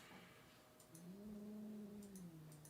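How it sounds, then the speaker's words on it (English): A cat gives one long, wavering meow that rises and then falls, faint and somewhat distant, with no talking over it. "Oh, you see, you hear the cat?"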